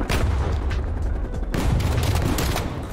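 Streetsweeper shotgun fire in Call of Duty Cold War, dense loud booming blasts blending into a continuous roar of gunfire with a brief break midway, up close and unbroken by talk.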